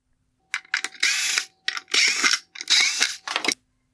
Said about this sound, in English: I'm now going to remove the three T15 Torque screws on the rear.